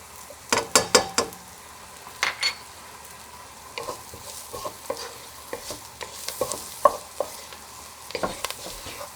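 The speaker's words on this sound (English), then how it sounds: "now when we saute for maybe a minute or so" Onion and turmeric sautéing in a pan, a steady close sizzle broken by clear scraping stir strokes, heaviest near the start and then spaced out irregularly, with no voices.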